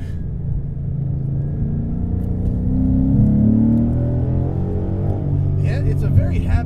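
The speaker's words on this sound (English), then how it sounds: "It's a very happy engine to rev." A modified full-bolt-on 2015 Ford Mustang GT V8 pulls hard from inside the cabin, its deep engine note rising and falling with revs while people talk over it.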